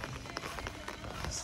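Rain falls outdoors in open fields beside the Mahanadi river, a steady, close hiss of drops pattering on surfaces throughout.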